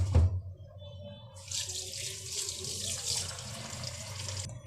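Pilaf rice is rinsed under a running kitchen tap, the water gushing and splashing steadily into a sink after a brief clatter at the start.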